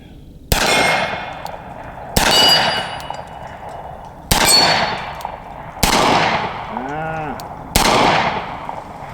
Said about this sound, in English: So let's just shoot a little bit more here